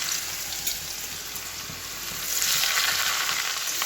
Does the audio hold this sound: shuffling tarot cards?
no